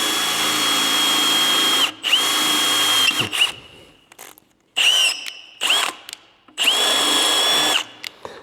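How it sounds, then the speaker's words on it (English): A small electric drill whines in several bursts, pausing between each, its high steady pitch grinding as it bores into metal. "I use first small drill."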